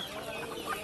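A local country chicken at a village market gives a short, faint run of clucks, ending in one slightly louder squawk.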